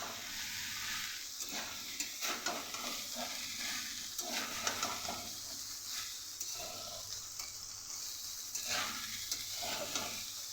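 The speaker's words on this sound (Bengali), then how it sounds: "এবার ভাতটাকে সবজির সাথে একসাথে ভালো করে ভাজবো।" Leftover cooked rice is stir-fried with vegetables and salt in a pan for fried rice, giving a steady sizzle broken by repeated scraping strokes of a spatula, close and with no talking.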